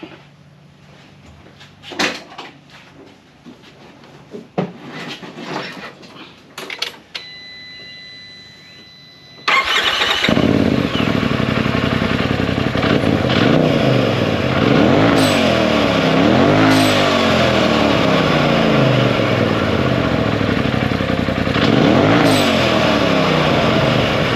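After some faint clatter, a Polaris RZR side-by-side UTV engine fitted with an aftermarket blow-off valve suddenly starts and runs loud and close, its pitch swelling and dipping in repeated revs.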